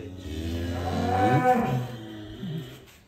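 A large, rare European-breed bull lows in a long, deep moo with a rising and falling pitch, close and loud, with a brief second bellow near the end.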